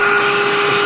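An i-vac X10 stick vacuum cleaner runs close by with a loud, steady motor whine and airflow hum that continues throughout the brief moment.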